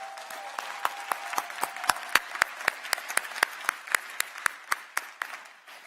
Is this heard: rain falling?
no